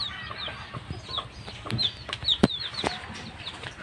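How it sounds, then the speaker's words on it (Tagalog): Backyard hens and chicks outdoors give a run of close clucks and thin high peeps, irregular calls scattered over light rustling, with a sharp louder squawk partway through. "Yung sisiw. Meron ding sisiw."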